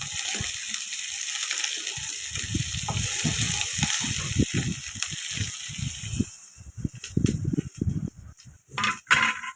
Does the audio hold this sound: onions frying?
yes